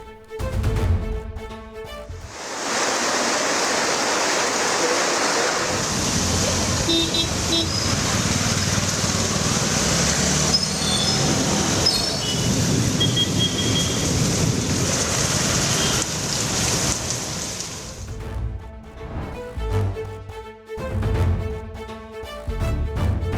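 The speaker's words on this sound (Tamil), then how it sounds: "சென்னையில் பிற்பகல் வரை வெயில் சுட்டெரித்த நிலையில் மாலைக்கு மேல் கனமழை வெளுத்து வாங்கியது" Heavy evening downpour in Chennai after a hot afternoon, a steady loud wash of rain holding for most of the stretch, with traffic sound and faint rumbling beneath it.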